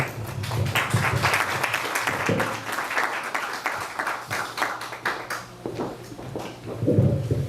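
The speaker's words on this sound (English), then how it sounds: "I think we need to give him a round of applause for standing with the women who are here today." A round of applause from the audience at a book launch event, a fairly sparse stream of clapping that swells and fades, with a few louder individual claps near the end and no talking.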